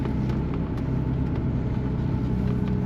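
Lamborghini Murcielago with E-gear transmission pulling away in first gear, a steady close engine rumble with a mild rise in revs, loud and alone without talk.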